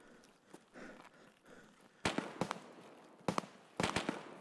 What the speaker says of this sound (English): Lots of shots going on.